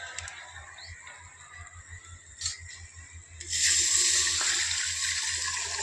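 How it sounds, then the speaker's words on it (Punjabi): A jug of water is tipped into dal after its spices have been fried in oil. After a few quiet seconds, a loud, steady, close rushing pour sets in and continues to the end. "ਹੁਣ ਆਪਾਂ ਪਾ ਦਾਂਗੇ ਇਹਦੇ ਵਿੱਚ ਪਾਣੀ"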